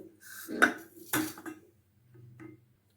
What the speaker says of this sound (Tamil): இப்போது 2 முட்டை இதில் வந்து உடச்சி ஊற்றிக்கலாங்க.